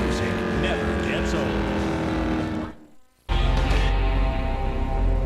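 A car engine roars continuously while driving in the video game Gangstar Vegas, cutting out briefly before resuming loud and close, with speech-like sounds mixed in.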